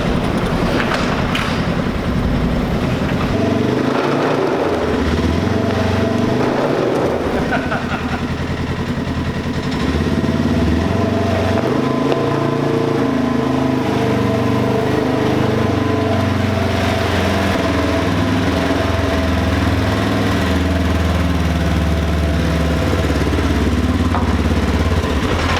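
A Polaris RZR 1000 S side-by-side engine runs in a garage, a loud, close, steady rumble with rattling clatter and a rising throttle change near the start, continuous for the whole stretch.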